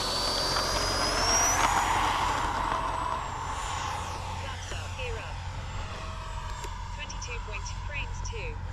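A Freewing F-35 RC jet with a 5280RC afterburner flies past outdoors, its electric ducted-fan whine sweeping in pitch and rising then fading as it passes, with steady background rumble.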